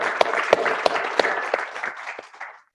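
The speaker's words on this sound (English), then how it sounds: "Sure, round of applause." An audience round of applause at a science communication competition final, a dense burst of clapping from a crowd with a few louder claps standing out, fading away toward the end.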